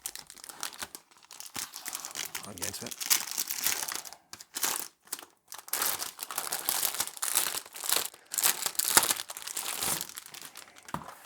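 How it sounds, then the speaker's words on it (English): Plastic packaging crinkling and tearing as an Alienware AW920K wireless gaming keyboard is unwrapped, close and irregular with bursts and brief pauses, and a short spoken remark at the start. "Let's unwrap the keyboard."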